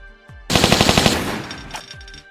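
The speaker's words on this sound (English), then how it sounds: "Being an assault rifle, the M16 is obviously very effective with a high firing rate that can kill enemies fast." Rapid burst of M16 assault rifle fire from Tomb Raider 2, a loud dense string of about a dozen shots lasting over half a second, tailing into fainter echoing game sounds.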